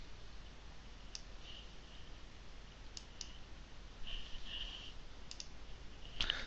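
A computer mouse clicks on a cable port in Visio diagramming software, giving a handful of sharp, isolated clicks spaced irregularly over faint, steady room hum.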